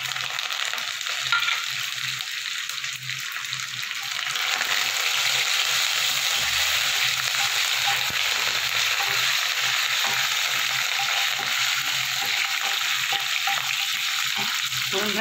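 Curry leaves hit hot oil as a tempering for a rohu fish curry, a loud, close, continuous sizzle with occasional stirring scrapes, steady throughout.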